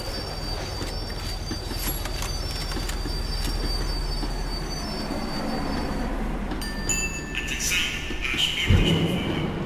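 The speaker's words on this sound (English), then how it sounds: "The tram was slowing down, and I'd only just gotten on board." A tram in the video game Max Payne 3 slows down, its wheels squealing against the rails over a low rumbling rattle, with brighter screeches and a clunk toward the end as it comes to a stop.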